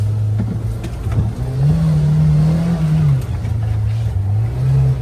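A Kawasaki Ridge UTV's four-cylinder engine revs steadily on a tight wooded trail, its low drone rising and falling close up, with no talking.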